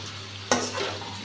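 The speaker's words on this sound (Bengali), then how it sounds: "আলুগুলা ভালো করে ভেজে নিয়েছি" Potatoes frying with salt and turmeric, a brief steady sizzle with one sharp scrape or knock of a utensil in the pan partway through, close and alone.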